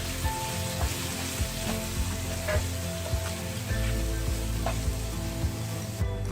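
Chicken curry for khao suey with red chilli powder and turmeric being stirred in a pan, a constant loud sizzle with regular scraping strokes from a spoon, close up, no voices.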